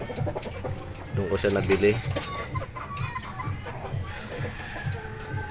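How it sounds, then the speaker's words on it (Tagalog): Pullet chickens, regular gray and Gilmore, clucking and chattering inside their coop, a busy overlapping flock heard close by while someone talks over them. "Ito yung mga pulit."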